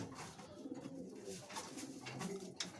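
Soft, low pigeon cooing repeats inside a racing-pigeon loft, with faint rustling and a few brief clicks.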